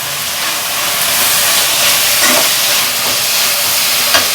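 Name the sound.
green chilies sizzling in frying oil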